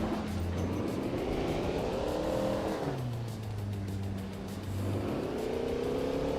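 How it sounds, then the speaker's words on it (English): A 1955 Maserati 300S race car's engine snarls loudly in a racing video game on the Oschersleben circuit, its pitch climbing and dropping through gear changes, with steady engine drone and no talking. "driving a 1955 Maserati 300S"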